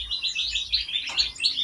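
Serindit birds in an aviary give a run of high, thin, repeated chirps, fairly close and moderately loud over quiet low background noise.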